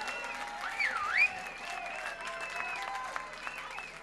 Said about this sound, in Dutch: Natuurlijk ook een applaus voor u.